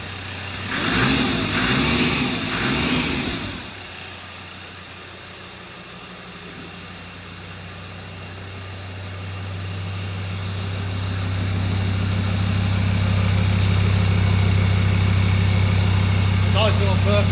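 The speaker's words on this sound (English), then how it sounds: "Nice little burping exhaust." A car engine starts up after a brief crank, then settles into a steady idle with a low, rumbling exhaust that grows louder and fuller over the final seconds; a voice is heard briefly at the start.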